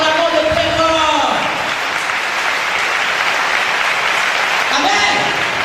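A church congregation at a French-language worship service bursts into sustained loud applause and cheering, a dense crowd filling the room steadily for several seconds, with a voice calling out over it near the start.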